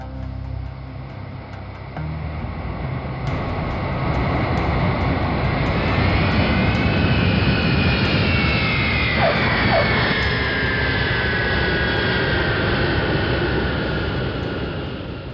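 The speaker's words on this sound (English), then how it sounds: "At 6:44 p.m., the plane lands at Amritsar's Raja Sansi airport." Loud, close engine roar from a passenger airplane landing at Amritsar's Raja Sansi airport, with whining turbine tones that swell and then ease over several seconds.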